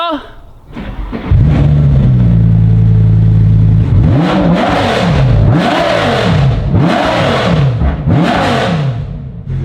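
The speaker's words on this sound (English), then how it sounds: "Let's give it a few revs and see if you guys can figure out what car it is" A high-performance car engine starts and idles, then revs repeatedly in rising and falling bursts, loud and close, with a rough, throaty tone.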